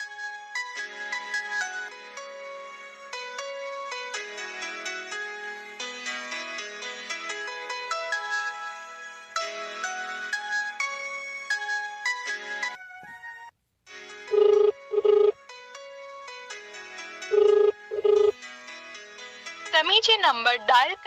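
An outgoing phone call rings back in repeated electronic bursts with gaps between them, then cuts off. Near the end a brief rising tone follows.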